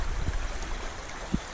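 Traverse Creek runs swollen after overnight rain, a soft steady wash of flowing water with a couple of faint low thumps, quiet and continuous.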